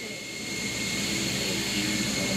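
Steady airplane engine drone holds evenly throughout, a continuous broadband roar with a faint high whine, moderately loud and unbroken.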